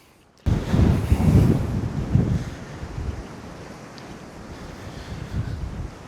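Wind buffets the microphone on a muddy countryside walk in the Cotswolds near Bibury, starting abruptly as a loud rough roar and easing to a steadier, softer gusting, with no talking.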